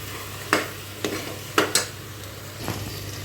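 Spices and salt being stirred into a pan of vegetable pulao base, with a few soft scraping strokes of a spoon against the pan over a faint sizzle, close and fairly quiet.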